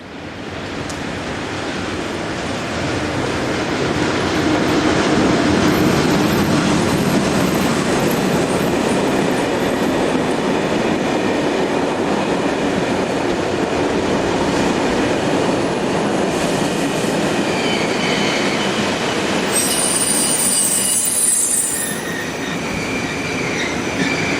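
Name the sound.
Swiss Class Re 6/6 and Re 4/4 locomotives arriving with freight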